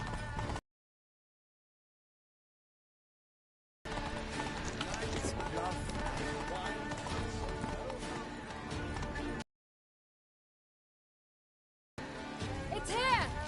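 Roach, the horse in The Witcher 3, gallops with a quick drumming run of hoofbeats in several bursts broken by stretches of total silence, under a busy in-game mix that may include voices.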